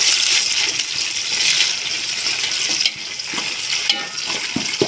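Onions and coriander stirred and sautéed in a pot sizzle loudly and steadily, with scraping strokes and occasional clinks of a spoon against metal.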